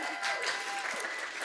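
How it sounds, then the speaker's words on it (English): Conference-talk audience gives a brief, dense burst of applause, steady and moderately loud for just over a second. "I think we get a little round of applause for that one."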